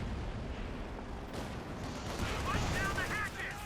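Sherman tank's .50 caliber machine gun fires during a Company of Heroes 2 battle against German Grenadiers, a dense steady rattle of gunfire blended with distant artillery rumble, with a voice talking over it.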